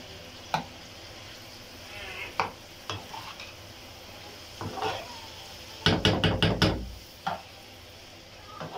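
Meat frying with garlic and pepper in a pot, a steady sizzle broken by repeated spatula knocks and scrapes, including a quick burst of several strikes in a row.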